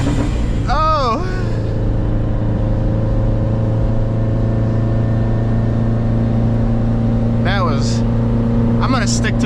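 A 2013 Subaru WRX engine holds a loud, steady droning rev under launch control, heard from inside the car, with a few brief voice exclamations over it.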